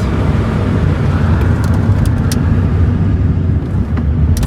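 Steady, loud road rumble and engine drone from inside a moving car on a test drive after brake caliper repair and bleeding, continuous throughout with faint clicks and rattles, no one speaking.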